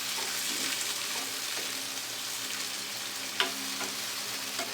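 Already-cooked food sautéed in butter in a pan, a steady, fairly loud sizzle with occasional stirring scrapes and one sharp clack.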